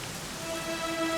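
Rain falls in a cutscene of the video game Dragon Quest XI, a brief, steady hiss of drops on surfaces with faint sustained tones underneath.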